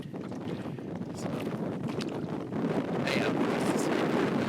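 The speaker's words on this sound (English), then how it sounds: "It dies down and then there's a gust of wind." Wind blows along a lake shore in Killarney Provincial Park, Ontario, a steady rushing noise that swells into a stronger gust about halfway through and stays loud to the end.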